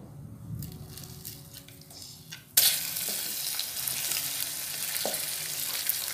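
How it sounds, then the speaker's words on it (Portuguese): Margarine dropped into melted sugar for pé de moleque brittle, a sudden loud sizzle bursting in after a quieter start and continuing steadily as it is stirred. "já derreteu o açúcar. Então, eu venho acrescentando uma colher bem cheia de margarina"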